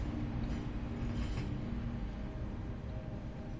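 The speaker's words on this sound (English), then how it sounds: "The train is leaving into the tunnel." Rumbling train in the Roblox game Murder Mine pulling away into a tunnel, a steady low mechanical rumble with faint rail hiss, loud and continuous throughout with no talk.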